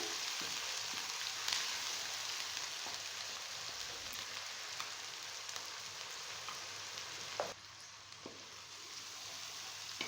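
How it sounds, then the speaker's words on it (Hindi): Onions frying in ginger garlic paste for Lahori chikar cholay give off a faint, steady crackling sizzle that runs on unbroken with a few brief clicks. "अब हम इसमें प्याज डाल देंगे और इसको भी भूनेंगे इतनी देर कि इसका कच्चापन खत्म हो जाए।"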